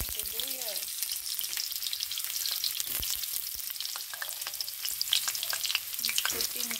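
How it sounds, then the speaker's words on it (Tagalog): Garlic and onion sauté in hot oil in a pan, a steady bright sizzle with scattered crackles and spatula scrapes throughout, close and fairly loud. "Sa ating kawali, maglagay tayo ng mantika. Tayo'y magigisa na. Lagay ang bawang."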